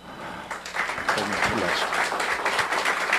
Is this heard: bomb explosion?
no